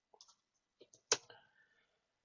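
Computer keyboard keys tapped to enter a short save command on network configuration, a few sparse clicks with one louder keystroke, close and isolated in a quiet room.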